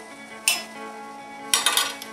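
Elbow macaroni from Kroger is poured into a pot of boiling water in two rattling bursts, a short one followed by a longer clattering spill, over a steady kitchen hum.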